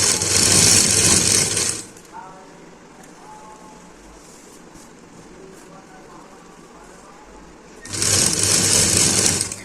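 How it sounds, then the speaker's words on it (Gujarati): A sewing machine stitches stretched elastic onto fabric in two loud, steady whirring runs, with a quieter pause between them. "હવે આપણે લબરને ખેંચીને સિલાઈ લેવાની છે આ રીતે આ રીતે ખેંચીને સિલાઈ લેશું"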